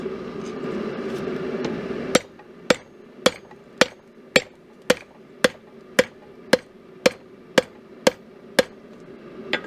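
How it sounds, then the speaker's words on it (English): A hammer strikes steel stock laid over a hot-cut chisel on an anvil, first muffled then a steady series of about fourteen sharp ringing blows, evenly spaced and close. "take your piece straight over the top of the chisel and strike repeatedly until you're almost through"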